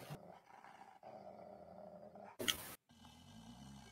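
Several people in a VR Chat hangout take turns imitating growls with their voices, producing a few rough, throaty bursts in sequence followed by a sharp louder outburst.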